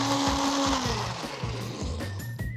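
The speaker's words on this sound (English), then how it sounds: "That's cooking in the blender." A kitchen blender whirs steadily while egg yolks are mixed with hot butter, loud and close, its motor pitch shifting slightly, with no talking.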